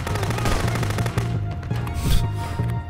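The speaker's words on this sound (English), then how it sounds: "I finally bought my beautiful rifle, and I took it for a test drive on a gang of thugs I stumbled upon earlier." Rapid rifle gunfire from the video game Contraband Police, loud bursts of repeated shots close up over a busy game soundscape, nearly continuous through the whole stretch.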